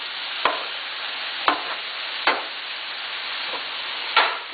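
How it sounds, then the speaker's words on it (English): Ground beef fries in a pan on a steady, soft sizzle while a spatula scrapes and breaks it apart, giving about five distinct clacking scrapes spaced irregularly over the continuous frying hiss. "once your ground beef is in the pan, start squishing it up into little tiny pieces"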